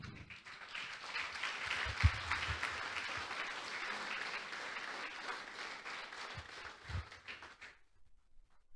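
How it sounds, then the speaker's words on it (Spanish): A church congregation applauds for the Lord: steady, dense clapping from a full room that holds for about eight seconds, then stops abruptly, leaving near-silence. "Dale un fuerte aplauso al Señor."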